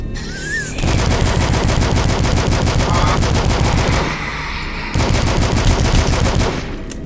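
Rifle fire in the retro shooter game Dusk: loud, rapid, unbroken automatic fire, broken by a short pause partway through and then resuming, with faint game sounds underneath.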